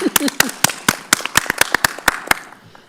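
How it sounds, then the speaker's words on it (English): Scattered applause from a small group at a Marion County school board meeting: a sparse, uneven run of sharp individual claps that thins out and stops, with a brief voice at the start. "we will give you a round of applause for that, ma'am"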